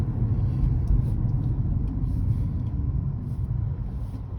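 A hybrid car driving on a UK road between Chester and Stoke, heard from inside as a steady low rumble of the very quiet engine and road noise, continuous and moderately loud with no one talking.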